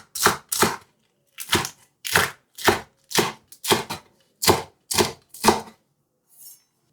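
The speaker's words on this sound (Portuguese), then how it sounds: "Bastante cebolinha. Eu só vou picar aqui." A knife chopping chives coarsely on a board, about ten crisp, evenly spaced strokes heard up close and alone, with a short pause partway through.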